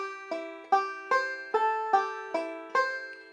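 Banjo rolling picked notes on a flat-three chord in an F shape, a crisp run of about eight plucks in an even rhythm, each ringing briefly, close and solo.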